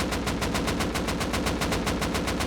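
Rapid automatic AK rifle fire in the game Rust, a dense close burst of evenly spaced shots running through the whole stretch without a break.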